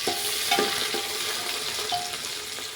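Whole spices, bay leaves and ginger-garlic paste crackle in hot oil for khichdi, a constant loud sizzle with a few sharp pops and stirring clinks.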